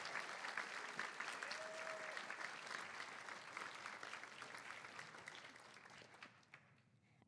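Sustained audience applause at a live pitch event, steady and dense throughout before fading near the end.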